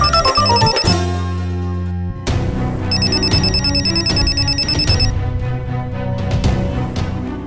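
A phone ringtone plays loudly and steadily in an indoor comedy scene, a melodic electronic ring that repeats through the whole stretch with no one speaking over it.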